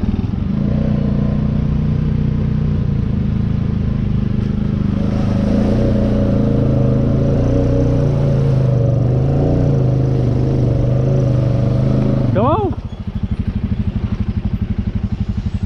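A Kayo Bull 150 dirt bike engine runs loud and close, a steady rough motor drone that briefly revs before dropping to a chugging idle.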